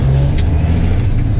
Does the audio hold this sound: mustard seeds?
no